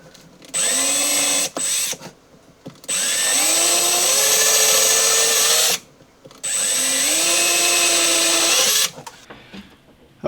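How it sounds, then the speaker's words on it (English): A power drill boring pilot holes into a wooden cabinet door, three sustained whirring bursts of several seconds each with short pauses between, the motor pitch rising as it spins up, loud and close. "next we'll drill some pilot holes right where we marked"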